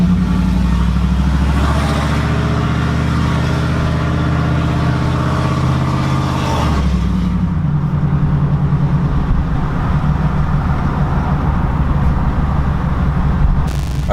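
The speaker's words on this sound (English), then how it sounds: "Alright, so I'm gonna give it a little gas." A 2008 Chevrolet Silverado with headers and straight pipes runs loud and close, its deep, rumbling exhaust climbing through a long acceleration, shifting about halfway, then settling into a steady drone.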